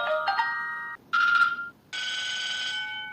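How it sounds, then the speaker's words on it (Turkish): A DT8 Ultra smartwatch plays its incoming call ringtone, three short bursts of bright electronic melody with brief gaps between them, clear and close with no talking. "Zil sesi ayarı arama olduğunda nasıl çalsın diye."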